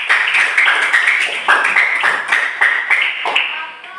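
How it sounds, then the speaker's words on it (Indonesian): A classroom group claps for the second-place team, a dense, steady patter of many hands with individual slaps rising above the crowd, fading slightly at the end. "Tepuk tangan."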